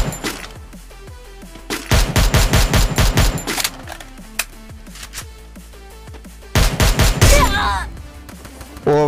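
Rapid automatic gunfire from the mobile battle royale game Garena Free Fire, in two loud dense bursts with quieter in-game sounds and a brief whooshing effect between them.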